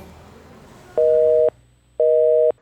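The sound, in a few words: telephone busy signal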